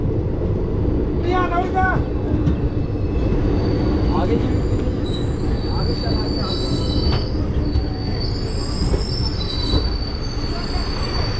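Shaktipunj Express pulling into Barkakana Junction, with wheel squeal and steady rolling rumble heard from inside a curtained coach, continuous throughout, and brief voices in the background.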